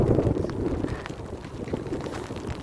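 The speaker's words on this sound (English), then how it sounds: "It's very windy." Strong wind buffeting the microphone in loud, uneven gusts, a rough low roar that rises and falls.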